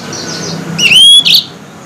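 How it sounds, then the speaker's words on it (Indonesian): A Mozambique canary, also called the yellow-fronted canary, sings a brief loud burst of bright whistled chirps and a rising sweep, close up and alone over faint background noise. "Kita lihat dari burung Mozambik."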